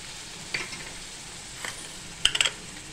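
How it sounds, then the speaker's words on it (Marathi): Spice masala stir-fried in oil for a Satara-style mutton dish hisses faintly and steadily, broken by a few light metallic clinks and scrapes of a spoon against the pan. "छानपैकी हा मसाला आपल्याला तेलामध्ये तळून घ्यायचा आहे मंडळी।"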